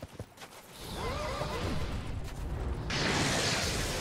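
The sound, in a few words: horse neighing in Dark Souls 2 video game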